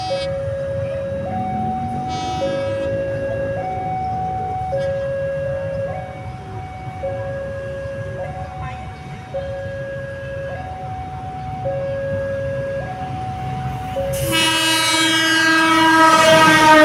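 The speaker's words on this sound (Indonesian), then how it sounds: "Kereta api Fidel akan melintas langsung di stasiun Cimindi." A Fidel passenger train approaches Cimindi station in Indonesia, sounding a long alternating two-tone horn repeatedly over a rumbling rail background, then a louder, brighter blast as it passes close by.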